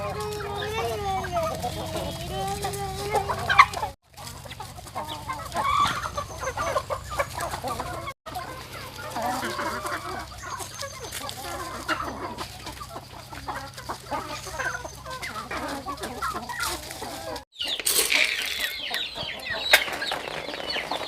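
Young chickens on a farm cluck and chirp steadily nearby, with a rooster-like call and wing flutters, and people talk intermittently over the flock.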